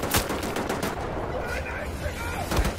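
Rapid gunfire in the shooter game Wolfenstein: The New Order, with dense, loud volleys of shots aimed at the player rattling continuously through the whole moment.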